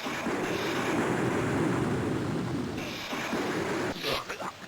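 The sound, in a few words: lightning strike with thunder in the video game Myth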